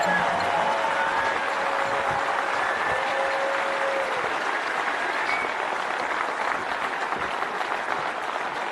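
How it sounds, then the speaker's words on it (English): A large audience gives a prolonged round of applause to the speaker's parents: dense, loud, steady clapping from many hands that fills the hall evenly for almost nine seconds. "please help me give a huge round of applause to my parents"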